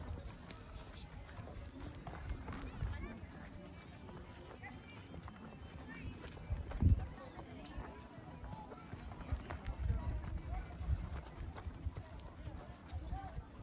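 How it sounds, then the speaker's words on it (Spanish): Horses arrive on a rural community street during the San Isidro Labrador patron saint festival at El Venadito, hooves clip-clopping steadily at moderate distance while someone talks. "por ahí siguen llegando más amigos que vienen a caballo."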